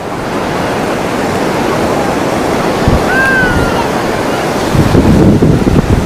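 Ocean surf breaking on the beach at Puri, a steady roar of waves with wind buffeting the microphone, swelling louder near the end as a larger wave crashes close by.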